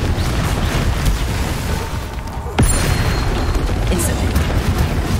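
Confringo blasting spell exploding in the video game Hogwarts Legacy, a sharp loud burst partway through, followed by continued rumbling combat noise over a busy background.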